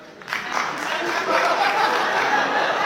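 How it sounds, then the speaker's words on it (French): An audience at a stand-up comedy show breaks into applause, with steady clapping swelling and holding, mixed with some chuckles and crowd murmur. "Par applaudissement, mesdames."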